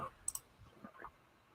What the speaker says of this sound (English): Sorry for the sound of my clicking. Still haven't got that cool mouse you guys told me about.